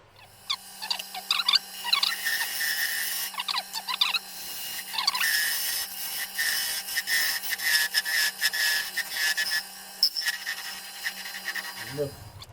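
A parting chisel cuts wood on a spinning lathe, squealing and scraping in repeated bursts over a low steady motor hum, close and fairly loud, cutting out near the end.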